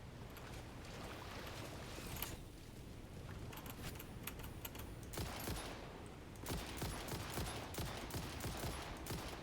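Rapid gunfire in the sci-fi factory-building video game Satisfactory, a continuous dense rattle of shots in bursts lasting several seconds, fairly quiet and steady with brief lulls and no talking over it.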